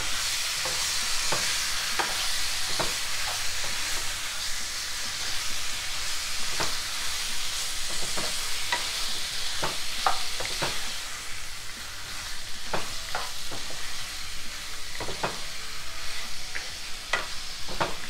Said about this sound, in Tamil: இப்போ சிக்கனை சேர்த்துட்டு இதை நல்லா மசாலாவோடு மிக்ஸ் பண்ணி விட்டுடலாம்